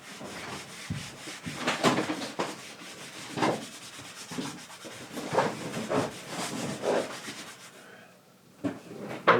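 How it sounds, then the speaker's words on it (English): A cloth rubs and buffs wax on a Halloween mask, making soft, close, irregular swishing strokes with no voices. "now we have to polish the atom wax."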